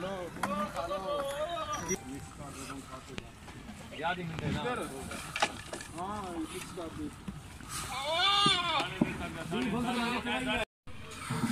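Male goats at a goat farm bleat repeatedly while feeding, their wavering cries coming close and loud in overlapping bursts, with the heaviest run near the end; someone talks over much of it.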